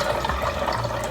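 Hot coffee pours over ice into a blender jar, making a steady, continuous liquid splash and trickle for about a second, loud and up close with no talking.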